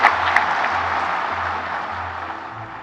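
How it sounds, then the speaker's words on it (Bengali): An audience at a World Environment Day 2025 event applauds award winners with steady, sustained clapping that fills the whole stretch at moderate loudness and holds even. "আমরা সবাই মিলে আবার হাততালি দিয়ে জোরে হাততালি দিয়ে অভিনন্দন জানাচ্ছি"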